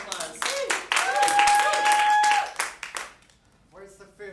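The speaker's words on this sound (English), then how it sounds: "Let's give a round of applause." An improv theatre audience claps and cheers during a live show, loud bursts of clapping mixed with shouting voices, trailing off into quieter talk near the end.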